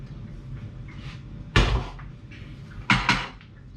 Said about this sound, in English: Lid on.